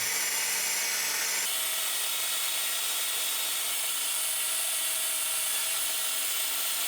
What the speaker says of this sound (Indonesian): Sekarang saya akan membuat lubang dan akan saya tapping dengan tapping M5.